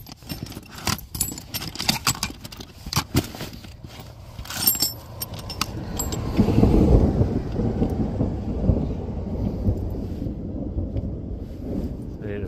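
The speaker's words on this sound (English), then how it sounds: "There's a fucking thunderstorm coming" A thunderstorm rolls in over an evening outdoor car repair, with a long loud rumble of thunder building midway over steady rain hiss, preceded by clattering and clinking nearby.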